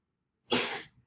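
A single sharp sneeze bursts out abruptly after a moment of silence during a math lecture, fairly close and brief.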